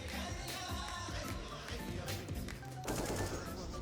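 Rapid bursts of automatic rifle fire rattle through a Counter-Strike: Global Offensive match, dense overlapping shots with a commentator talking excitedly over the action.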